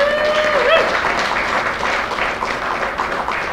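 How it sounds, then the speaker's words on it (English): Audience applause at a conference on normalizing US–Cuba relations in New York City, a dense sustained wash of clapping from a large room, steady and moderately loud, with a brief voice or whistle near the start. "I want to have you give yourselves a round of applause"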